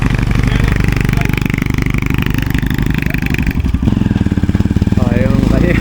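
A motorcycle engine runs nearby at a steady idle, a loud, fast, rough putter that holds throughout, with a person speaking over it.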